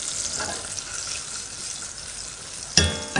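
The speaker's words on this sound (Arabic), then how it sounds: "هدوب الاول الزبده، اربع ملعقه كبيره من الزبده في كاسرولة بهذا الشكل" Butter melting in a casserole pan, four large spoonfuls, fizzing with a steady soft sizzle close by, then a brief sharper clatter near the end.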